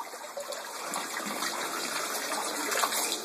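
Water trickles and splashes steadily from a tub drain pipe just lifted out of the water, a close, continuous pouring patter with no talking.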